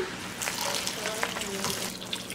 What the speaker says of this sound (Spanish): Después le voy a estar agregando ya el agua.